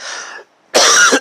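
A man gives a short, loud cough after a brief hoarse throat-clearing and a pause, close up, with no talk over it.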